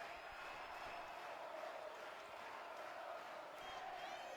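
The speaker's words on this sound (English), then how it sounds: "And listen to the crowd now." A distant, steady roar from a basketball arena crowd at a Liga Sudamericana final, a dense wash of cheering voices held at an even level without distinct claps or shouts.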